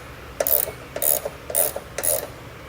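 Ratchet wrench backing off a stiff bolt while fitting a trailer hitch receiver to a 2013 Honda Odyssey, four short bursts of close, crisp clicking separated by brief pauses.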